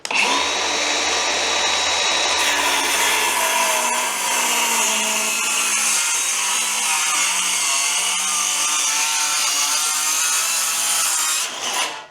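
A Milwaukee circular saw cuts through plywood in one sustained loud whine from start to finish, the pitch dropping slightly under load before it stops.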